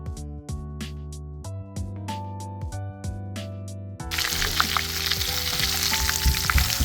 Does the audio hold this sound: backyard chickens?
no